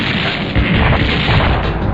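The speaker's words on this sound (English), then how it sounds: "where did all those missiles come from?" Missiles exploding in the 1997 Neo Geo arcade game Shock Troopers, a continuous dense rumble of blasts and booms lasting throughout, loud and unbroken.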